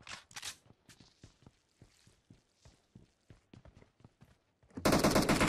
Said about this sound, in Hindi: कहीं और से गोलियां पड़ रही हैं।